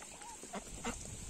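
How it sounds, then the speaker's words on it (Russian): Farm ducks quack in a few short, separate calls over steady background hiss, moderately near but fairly faint. "наши уточки"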